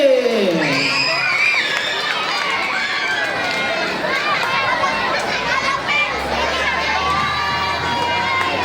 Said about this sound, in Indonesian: Kita beri tepuk tangan untuk Eze